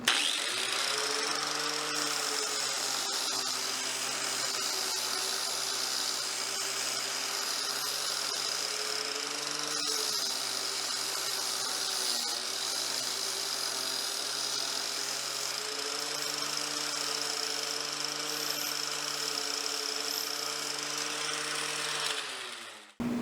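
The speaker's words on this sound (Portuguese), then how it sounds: "Olha como ele arredonda fácil e como come bem o material disco flap." An angle grinder fitted with a flap disc rounds over the edge of a metal plate, giving a steady, loud whine that runs almost unbroken for over twenty seconds with only slight shifts in pitch as the disc bites the steel.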